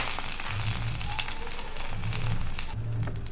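Hot tempering of mustard seeds, curry leaves and chillies poured into buttermilk curry, giving a continuous crackling sizzle with scattered pops over a low background hum.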